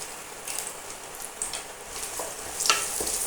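Chopped onions fry in a pan for an Ichor dalna (green jackfruit curry), a soft, fairly faint crackling sizzle with scattered pops and a few brighter spatters, with no voices.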